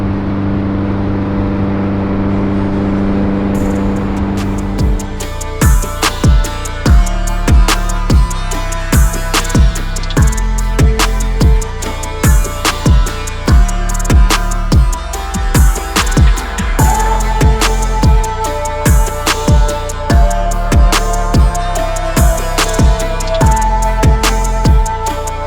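A loud 413 hp Subaru STI fitted with a Blouch turbo and TiAL wastegate, its engine droning steadily before breaking into a run of repeated sharp pulses and revs, close and continuous with no talking.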